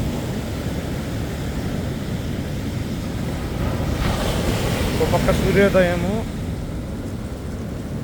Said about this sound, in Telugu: ఓ పక్క అలలు ఒక్కో సముద్రం చూడండి